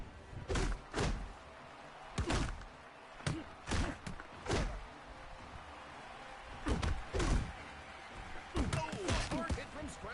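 Heavy punches landing in the Creed boxing video game, a series of loud, hard thuds arriving in irregular clusters of two or three, with game commentary running underneath.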